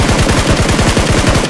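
Rapid automatic gunfire rattles in a battle royale mobile game, a loud, dense burst of quick repeated shots lasting over a second without pause.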